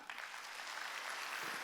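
A church congregation at a Wednesday worship service claps together in a short, steady burst of applause, fairly soft and even throughout.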